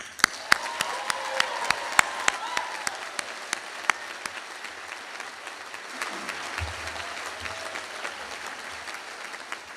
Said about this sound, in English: Let's begin with the first of many rounds of applause for your triumph and your graduation.